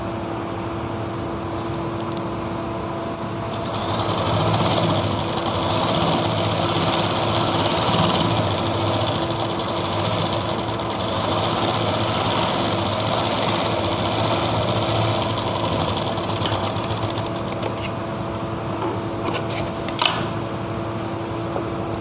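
Sewing machine stitching a Patiala salwar, a steady close mechanical hum and whir that runs continuously for most of the stretch with faint needle chatter, trailing off with a few clicks near the end.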